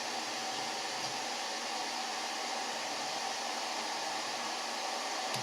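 Compressed air blasts steadily through a carburetor top fresh out of solvent, with its mixture cap and screws removed. The hiss is a loud, continuous, close-up rush with no break and no talking.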